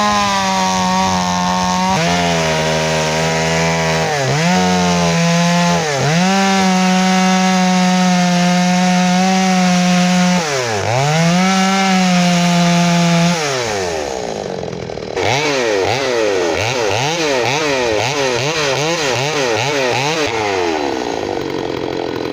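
A chainsaw carves chain links into a willow log, running loud and close, its engine pitch dipping and rising as the blade bites into the wood and revs between cuts.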